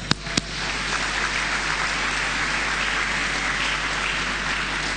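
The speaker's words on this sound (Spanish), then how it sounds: "Den un aplauso a los." Applause from a church congregation for a group of teenagers aged 13 to 17, loud dense clapping sustained throughout after a couple of sharp claps at the start.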